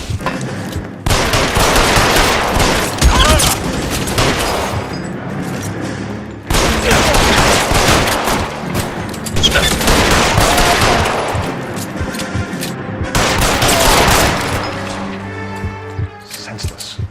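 Sustained gunfire in the L.A. Noire video game, heavy bursts of rapid shots in three long waves with brief gaps between them, loud and close, with voices mixed in.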